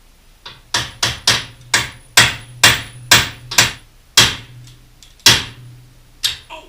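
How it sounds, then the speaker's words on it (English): A real hammer strikes steel chisels in about a dozen sharp, ringing metallic blows, loud and close, in a steady but slightly irregular rhythm with brief pauses, no talking over them. "Bruce brought me a real hammer here"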